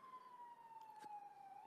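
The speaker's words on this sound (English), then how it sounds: "I'm pointing as a siren goes by." An emergency siren passes outside a home in a city neighbourhood, heard as a faint, steady wailing tone that slowly glides downward, distant and alone over a low background hush.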